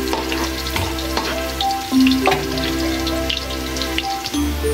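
Ginger sautéing in a pan for a Filipino corn soup with shrimp, a steady crackling sizzle with occasional scrapes and clinks of stirring, close and fairly loud throughout.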